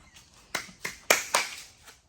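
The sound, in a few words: hand clapping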